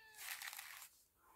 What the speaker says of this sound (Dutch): Allee, poes. Het is nu wel even klaar. We horen je.